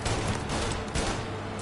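Rapid bursts of gunfire in the video game Mafia crackle over a dense, noisy mix, shots running together almost continuously for the whole moment.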